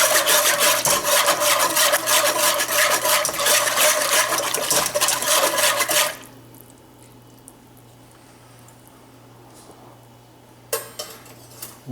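Shrimp in lemon garlic cream sauce is stirred in a pan, with a close, busy scraping and clinking of the utensil against the pan for about six seconds, then quiet, then a few brief scrapes.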